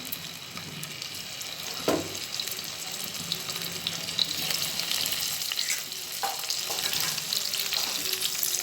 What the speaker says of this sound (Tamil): சூடானோடனே நம்ம கழுவி வச்சுருக்க இந்த கருவாடை இந்த எண்ணெயில் போட்டு பொறிச்சு எடுத்துருவோம்